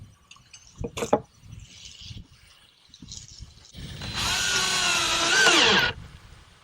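A power drill bores into wood for an American kestrel nest box, one loud sustained run of about two seconds with pitch sweeping as it bites in, after a few brief knocks and handling sounds.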